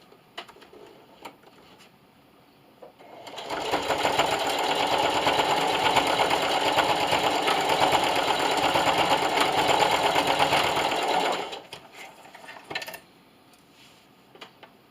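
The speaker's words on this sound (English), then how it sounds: "I'm just going to go back and forth about 3 or 4 times just to make sure it's nice and secure." A sewing machine back-stitches over a lanyard clasp, running in one steady burst of about seven seconds with a busy mechanical chatter, framed by quieter handling clicks and rustles before and after.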